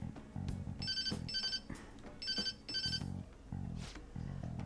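A phone ringing inside a video game, two double-burst electronic rings spaced apart over low background music, moderately quiet and with no talk.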